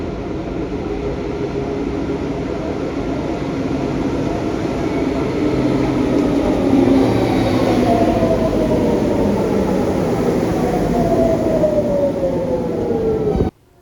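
A Lyon metro train, a recent MPL 16 model, rumbles steadily along the track, with a rising and falling electric motor whine gliding across the ride before the noise cuts off abruptly.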